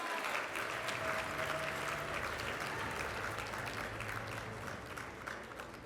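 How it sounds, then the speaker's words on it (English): An audience at a university achievement celebration applauds for Dr. Ravnik, sustained dense clapping from many people in a large room, softening gradually near the end. "A round of applause for Dr. Ravnik,"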